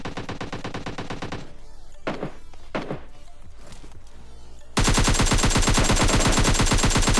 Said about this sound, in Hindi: तब मेरे को पता चलता कि सामने से कुछ गन साउंड्स आते